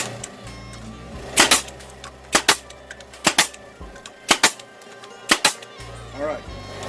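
A pneumatic Husky DP2118G brad and crown stapler, run on compressed air at about 80 psi, fires six sharp, loud shots at roughly one-second intervals, each a quick double crack, with a faint air hiss between shots.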